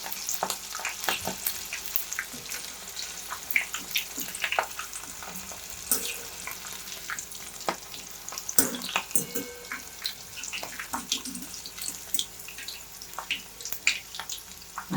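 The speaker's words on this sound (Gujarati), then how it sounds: "પકોડી આપણી સરસ એવી ફ્રાય થઈ ગઈ છે અને આપણે હવે બહાર લઈ લઈશું." Sprouted mung bean pakoda frying in oil makes a soft bubbling sizzle, with sharp clicks and scrapes of stirring and handling scattered on top, fairly close and moderately quiet.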